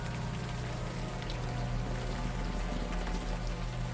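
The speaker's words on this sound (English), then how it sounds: "the warm rain is coming down" Warm rain falling steadily in the video game Unavowed, a dense, even wash of drops with a low rumbling undertone, constant throughout and with no voices.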